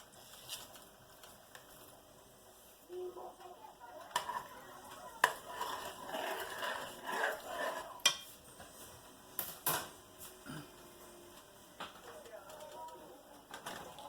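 Thawed, peeled shrimp cut in half go into a pot of gumbo, giving a few soft clinks and scraping stirs against the pot, with faint patter and rustling at moderate distance.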